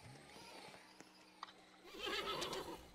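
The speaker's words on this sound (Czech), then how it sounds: "já si vezmu třeba, koně." A horse whinnies in a Roblox game, a short neigh with a few hoof clops, rising louder near the end and heard alone without talk.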